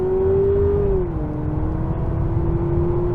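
A 2023 Honda Accord Hybrid in sport mode under full-throttle acceleration, the engine giving a loud, steady drone from inside the cabin, with its pitch dipping once as a simulated gear shift comes through.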